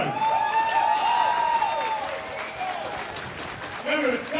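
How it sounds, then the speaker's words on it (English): Crowd applause with scattered cheers and whistles at a FIBA 3x3 World Tour basketball event in Saskatoon, a full burst of clapping that thins out under an announcer's voice before swelling again briefly. "by round of applause, let's hear it first for the MB All-Stars"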